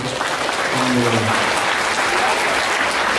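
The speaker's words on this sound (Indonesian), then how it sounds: "Tepuk tangan nih." Steady audience applause at a charity donation event with a religious lecture, dense clapping throughout with brief crowd voices underneath near the start.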